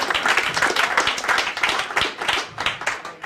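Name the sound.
comedy club audience applause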